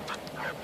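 Short, high-pitched dog whimper or yip, close by and fairly quiet, a brief whine rising in two bursts with no talk over it.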